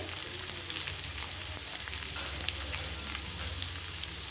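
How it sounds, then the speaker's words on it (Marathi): Green chilies and grated ginger fry in hot oil in a pan, giving a steady close crackling sizzle with scattered sharper pops throughout. "आपलं आलं पण छान परतले आणि मिरच्या पण मस्त परतल्यात बघा तेलात"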